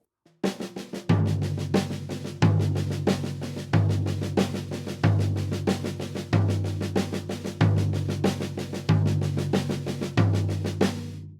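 Samba hand pattern on a drum set: snare notes with a booming floor tom hit on beats 2 and 4, loud and close in a steady repeating cycle with ringing low decays and no voices.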